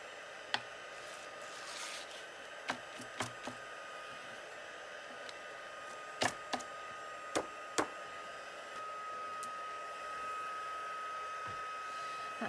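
A heat tool runs steadily in the background while white embossing powder is heated on a stamped card, giving a constant airy hiss with a few scattered taps and small clicks over it.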